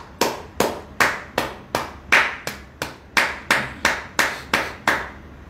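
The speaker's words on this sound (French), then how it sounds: "Des gens applaudissez. Applaudissez pour le peuple camerounais." Clapping heard as a run of about fourteen loud, evenly spaced claps, close and crisp, at a steady rhythm with no talk.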